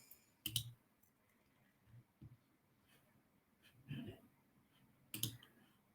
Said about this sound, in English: Lots of clicking going on here.